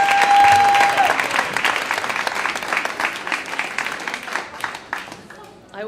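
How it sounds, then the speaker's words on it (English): Audience applause from a comedy show crowd, loud clapping that swells at once and slowly fades over several seconds, with faint voices mixed in. "big round of applause for Lichelli."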